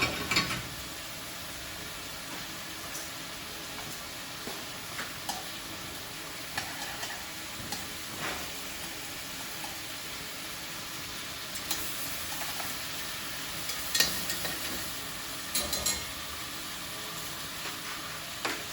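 Sausage browns in oil in a single pot, giving a steady, close sizzle with occasional sharp clicks and scrapes of stirring throughout.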